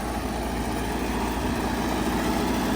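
A Soviet-era DT-75 crawler tractor's diesel engine runs at a steady idle, a continuous dense rumble heard close and fairly loud, with no talking.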